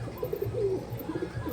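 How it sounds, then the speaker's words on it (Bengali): Breeding pigeons, including fantail pigeons, coo in a series of soft, low, rolling calls. The calls repeat continuously and close by, with no talk. "আলাদাভাবে রাখা হয়েছে বলে কীরকম ডাকছে দেখুন গাইস কবুতরগুলো"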